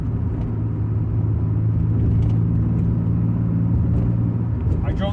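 A 1990 Nissan 300ZX drives along a bumpy road, with continuous low engine and road rumble heard from inside the car.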